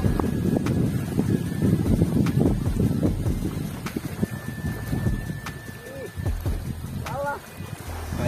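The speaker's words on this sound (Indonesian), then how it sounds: "Gede angin gini tuh." Strong wind gusting over open water on a mullet fishing outing, a steady, loud, blustery rumble that buffets the microphone throughout, with people talking over it.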